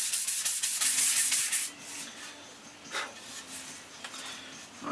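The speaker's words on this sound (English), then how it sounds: "So I'm just going to give them a rub off with the 800 grit from Perry McDaniel again." Hand sanding of dried veneer filler with 800 grit abrasive paper, a loud hissy rubbing for the first stretch, then quieter intermittent strokes and short scrapes.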